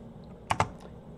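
A few quick keystrokes on a computer keyboard while a terminal command is typed into a Linux shell, two sharp close clicks followed by a fainter one over quiet room hiss.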